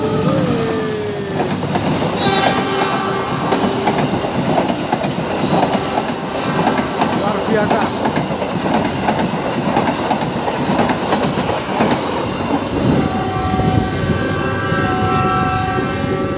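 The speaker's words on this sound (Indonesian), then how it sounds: "Tuh kereta guys. Wow, kereta hijau." A green passenger train rumbles past a level crossing nearby with rhythmic clattering wheels and a horn sounding in steady tones, continuous and loud throughout; a voice briefly speaks.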